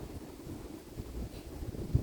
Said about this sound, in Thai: เมื่อวานนี้ไม่มีลมนะ แต่วันนี้มีลม